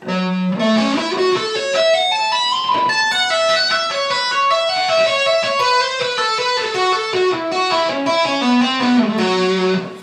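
A slow electric guitar lick, single sustained notes climbing and falling in a steady melodic line, with a slightly driven tone and no voices.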